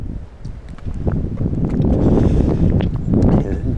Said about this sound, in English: And boy, it's windy.